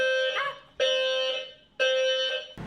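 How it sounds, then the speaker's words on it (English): A fire alarm goes off indoors, sounding three long, loud, steady electronic tones separated by brief gaps. "The fire alarm went off"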